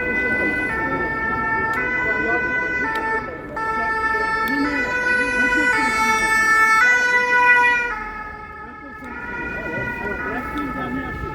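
A two-tone fire engine siren wails loudly and steadily as it passes a street demonstration in Paris near Porte Dorée, its alternating pitches repeating over crowd noise and traffic, with people talking underneath.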